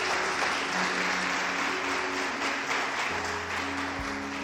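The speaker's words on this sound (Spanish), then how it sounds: "Dele ese aplauso fuerte al Señor." A church congregation applauding, a steady dense wash of clapping throughout with a faint sustained tone underneath.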